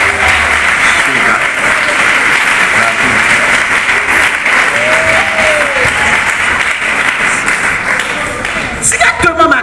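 A church congregation bursts into loud, continuous applause during a sermon, a dense roar of many hands with voices and a cry rising inside it before it thins near the end.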